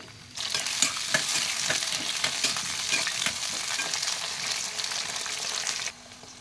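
Eggplant pieces for kathirikai kulambu fry in oil with a loud, close, steady sizzle that starts abruptly and holds with a dense crackle before cutting off near the end, no voices over it.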